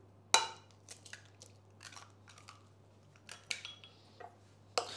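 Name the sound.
mixing egg into vegetarian meatball mixture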